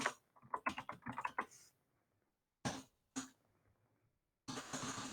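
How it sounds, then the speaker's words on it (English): Quick bursts of keystrokes tap on a computer keyboard, a close cluster of clicks followed by a pause, a couple of isolated presses, then another short flurry. "I'm going to type that again"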